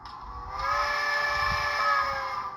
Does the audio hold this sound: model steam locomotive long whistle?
yes